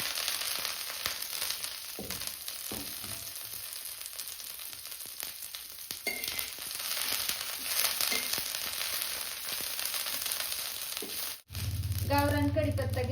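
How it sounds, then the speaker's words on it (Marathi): Curry leaves fry in hot oil for a village-style curry leaf chutney, a steady dense sizzle running throughout, with a louder crackling burst near the end. "सगळ्यात शेवटी आपल्याला कढीपत्ता तळून घ्यायचा आहे."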